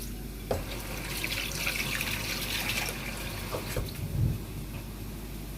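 Flattened rice (aval) being washed in water in a home kitchen, a steady splashing wash of water with a few louder knocks and sloshes.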